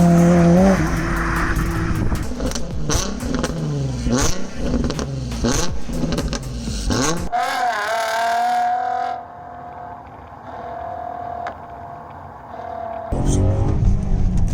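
Naturally aspirated sports car engine revs hard, climbing and dropping in repeated sharp sweeps, then settles into a lower, quieter drone before another loud burst near the end, with a voice talking over parts of it.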